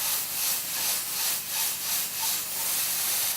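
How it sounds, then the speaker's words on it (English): Onions caramelizing in a pan for spicy Korean tofu dubu-jorim, a steady hiss broken by rhythmic, close scraping strokes roughly twice a second as they are stirred, with no voices. "you want a bit of a caramelizing into the onion"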